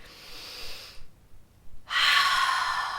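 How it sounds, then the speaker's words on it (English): A deep breath drawn in and let out, a soft airy rush, a near-silent pause, then a louder, longer exhale close to the microphone, with no talk. "And taking in a really deep breath,"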